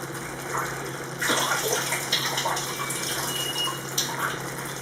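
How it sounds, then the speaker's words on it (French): Half a glass of water poured into a tajine pot of meat, fennel and peas, a steady close splashing pour that swells partway through, with no voices. "je vais rajouter un demi-verre d'eau"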